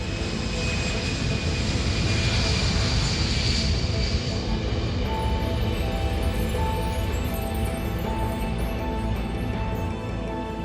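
A Boeing 747 jumbo jet roars through its takeoff, a loud, sustained, broadband engine rumble with a high whine that rises and then settles, steady throughout with no voices.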